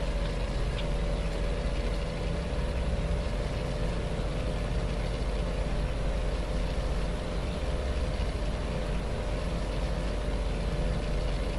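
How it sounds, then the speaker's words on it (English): A loud truck engine in American Truck Simulator gives a continuous heavy, droning rumble with a steady low growl and a broad, even roar held for the whole stretch. "I don't think I ever had a motor in it that was quite as loud as this one, though."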